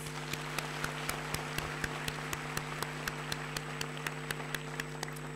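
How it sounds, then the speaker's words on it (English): Applause at a graduation ceremony for graduates and guests, a faint distant patter of claps in a steady rhythm over a low hum, thin and far off in a large hall. "Shall we give the graduates and the guests a big round of applause?"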